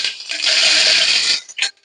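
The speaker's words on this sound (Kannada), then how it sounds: "ಸ್ವಲ್ಪ ಸಾಸಿವೆ ಹಾಕೊಳ್ತಾ ಇದ್ದೀನಿ" Mustard seeds spluttering in hot oil for a basmati tomato pulao, a loud, bright crackling burst lasting over a second, then fading with a short final flare of popping.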